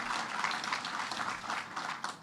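Audience applause at a Rochester sustainable development event honoring the Finger Lakes region, a steady dense wash of clapping holding evenly for the whole stretch with no voices over it.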